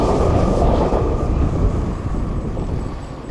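A steady, loud rumble of a Singapore MRT metro train running past, with a continuous roar and faint rattling throughout, no voices.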